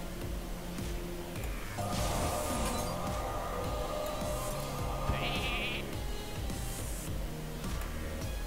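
A few sheep bleats sound over a busy Hearthstone game background of music and effects, fairly quiet overall.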